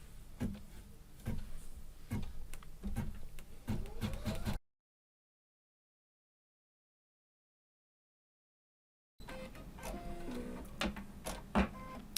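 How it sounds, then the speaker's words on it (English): A home sewing machine stitches around the edge of a quilted mug rug, its rapid mechanical clatter running close and steady in bursts separated by a gap of silence. "Okay, so I'll just put my presser foot down and stitch around."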